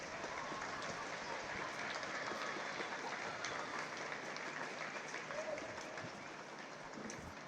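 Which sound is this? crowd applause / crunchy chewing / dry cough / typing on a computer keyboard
crowd applause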